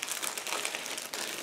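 A plastic bag holding sprues from an Eduard 1/72 Bf 110G-4 Profipack model kit crinkles and rustles close up in a steady burst of crumpling.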